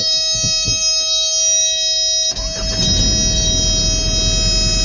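A truck's low air pressure warning buzzer sounds as a steady, loud electronic tone while the air system fills, continuing unbroken through the clip over engine rumble that grows heavier partway through.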